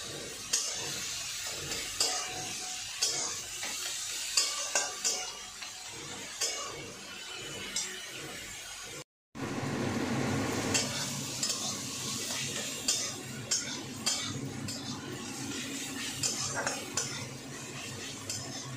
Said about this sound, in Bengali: পেঁয়াজগুলো একটু ভাজা ভাজা হবে, তারপর মশলা দেবো।